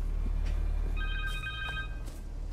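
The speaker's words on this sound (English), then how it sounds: "Connor's cell phone." A cell phone rings in the video game Marvel's Spider-Man 2, a short trilling electronic ring heard over a low, steady background rumble, with no talking.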